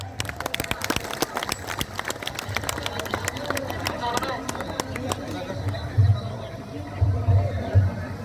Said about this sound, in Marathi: भाविकांना विनंती करतो आणि आपण टाळ्या वाजवाव्या एकदा